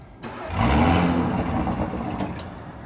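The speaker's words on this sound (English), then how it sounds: "do the remote start so you guys can hear what the stock exhaust sounds like" An Audi SQ5 engine with stock exhaust cranks and fires up on remote start, settling into a deep, throaty idle that rumbles steadily, with a couple of small pops.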